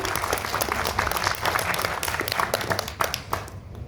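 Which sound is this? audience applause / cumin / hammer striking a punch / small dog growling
audience applause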